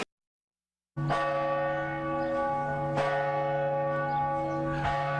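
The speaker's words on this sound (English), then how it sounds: "The bells here tolling" A large cathedral bell in Savannah tolls slowly after a moment of silence, each deep strike ringing out and lingering, repeating about every two seconds.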